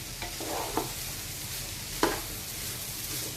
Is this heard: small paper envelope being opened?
no